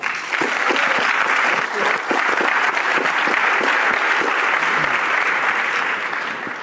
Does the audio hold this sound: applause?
yes